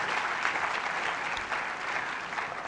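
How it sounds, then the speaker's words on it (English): An audience at a university student-industry conference applauds, a dense, steady wash of clapping from many hands that holds at an even level throughout. "Please, let's clap for Honorable Doctor."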